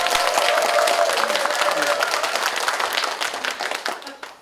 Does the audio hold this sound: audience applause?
yes